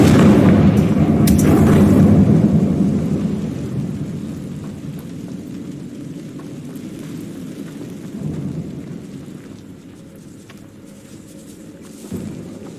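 A Confringo blasting spell erupts in the Hogwarts Legacy catacombs: a heavy, rumbling explosion that booms loudly at first, then rolls off into a long decaying roar, with a smaller thud near the end.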